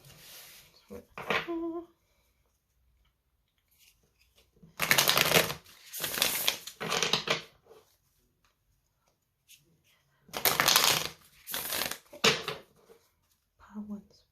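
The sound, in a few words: shuffling tarot and oracle cards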